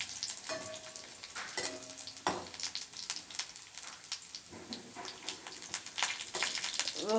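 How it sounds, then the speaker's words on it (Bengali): Garlic cloves, nigella seeds and a dried red chilli sizzle in hot oil, making a steady crackling fry with occasional stirring scrapes and splashes up close; no one speaks. "এবার রসুন আর কালো জিরের থেকে একটু ভাজা ভাজা হলে"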